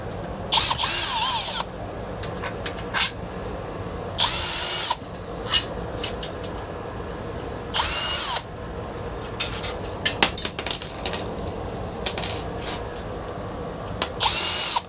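Bursts of a power drill run in short spurts as screws come out of a ceiling fan, whining loudly for a second or so at a time, separated by metallic clinks and handling noises.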